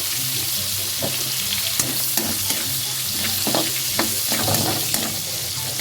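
Garlic frying in cooking oil with soy sauce for a stir-fried broccoli and ground pork dish, giving a steady loud sizzle with scattered crackles and the occasional stirring clatter, with no talking.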